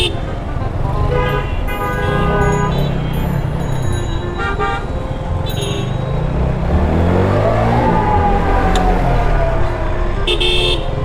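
A car horn toots repeatedly amid road traffic and engine noise on a busy street, with people talking over it.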